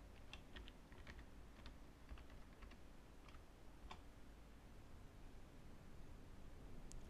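Fingers tap a short burst of keys on a computer keyboard while a password is entered, faint clicks over a steady background hiss, then a lone keystroke near the end.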